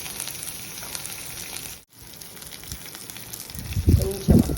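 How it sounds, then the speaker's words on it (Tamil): Mustard seeds spluttering in hot frying oil in a pan, a continuous close sizzle with scattered popping crackles that grows louder toward the end. "நல்லா கடுகெல்லாம் பொரிஞ்சிருச்சு"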